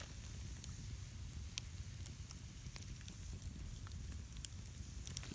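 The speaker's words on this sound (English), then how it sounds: "Hear all the little crackles and pops and blurps and all those tiny little sounds, sizzles that come from a beautiful little fire." A small campfire on a solo winter backpacking trip, with supper cooking. It crackles and pops steadily at low level, scattered sharp snaps over a soft continuous hiss and rumble, with no talk.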